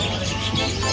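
Many birds chirp and call over one another at a busy bird market in Souq Waqif, Doha, a dense, loud, continuous chatter with a steady low background hum.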